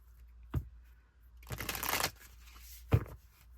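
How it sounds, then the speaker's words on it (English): Tarot cards are shuffled in a quiet room: a short riffle, a longer rustling shuffle, then a quick tap as the deck is squared. "Get one more shuffle, and then"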